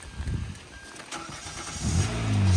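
A Hyundai Santa Fe all-wheel-drive engine cranks and catches, a brief rough start followed by a rising, steady idle that grows louder toward the end, recorded close from inside the vehicle.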